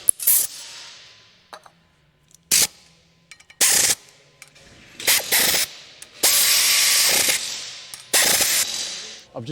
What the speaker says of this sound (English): I've just nipped them up with the wrench